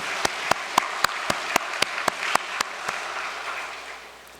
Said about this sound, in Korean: 큰 감사의 박수를 올리면 좋겠습니다